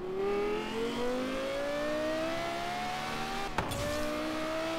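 A car engine in a Forza racing video game drones steadily with rising pitch, like an accelerating racing car, with a sharp brief click near the end.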